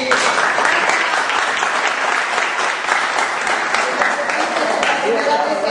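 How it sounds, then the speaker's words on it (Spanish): Dense, steady applause from a theatre audience at a pastoral play honouring Carmen and San Alejo, with many hands clapping continuously and loudly for the whole stretch and no pause. "Quiero que me le den un aplauso también a todos estos muchachos"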